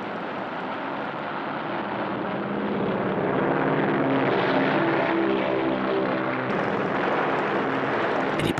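Propeller-driven American carrier planes roar past at the Battle of Midway, a dense, steady engine drone that swells slightly and holds loud for the whole stretch with no talk.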